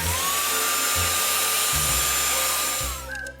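An Oneisall pet grooming vacuum with 10000Pa suction sucks up loose dog hair, giving a loud, steady, high-pitched whirring whine with brief pitch shifts that tapers off at the end, with no voices.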